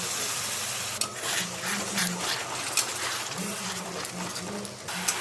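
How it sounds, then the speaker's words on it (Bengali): Ginger, garlic and chili paste sautéing in a pan with spices, a steady low sizzle running throughout, with soft stirring scrapes and clinks at a moderate distance. "এখন মশলাটাকে কষিয়ে নেব। আমি দিয়ে দিচ্ছি আদা রসুন আর লঙ্কা বাটা।"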